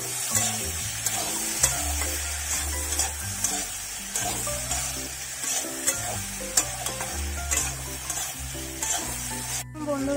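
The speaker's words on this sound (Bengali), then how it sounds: "সবগুলো ভালোভাবে নেড়ে নেড়ে ভেজে নেব।" Ginger and onion with other vegetables sizzle steadily in hot oil while a spatula stirs them in repeated scraping strokes, close and fairly loud, building a fish curry with pui shak and pumpkin; no one speaks.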